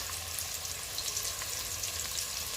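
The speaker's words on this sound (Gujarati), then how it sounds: "ડુંગળીને થોડી બ્રાઉન થવા દઈશું મસાલા જોડે" Onions browning with spices in a frying pan for veg pulao give off a steady, close sizzle that hisses evenly throughout, with no voices.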